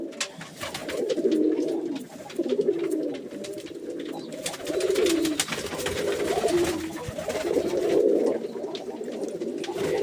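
Pigeons coo steadily and close by while being bathed in potash-tinted water on a hot day, their throaty calls rising and falling in overlapping rounds for the whole stretch.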